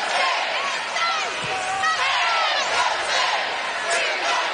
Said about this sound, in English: They draw a big crowd.